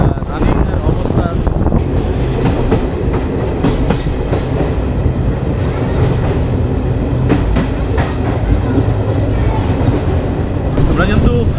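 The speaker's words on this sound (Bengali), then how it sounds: "আমরা কিন্তু ফারাক্কা ব্রিজের উপর দিয়ে এখন কিন্তু ট্রেন চলে যাচ্ছে" The 13466 Intercity Express crossing the Farakka bridge makes a loud, continuous rumble with rhythmic clickety-clack of wheels on rails throughout, and voices are faintly audible beneath the din.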